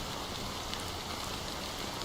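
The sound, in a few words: rain pouring in Honkai Star Rail video game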